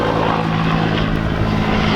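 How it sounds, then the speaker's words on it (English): A helicopter passes nearby outdoors during a camping gear review, its rotor and engine producing a loud, constant drone that fills the whole stretch with no talking. "Excuse that chopper over there."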